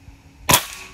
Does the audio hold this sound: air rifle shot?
yes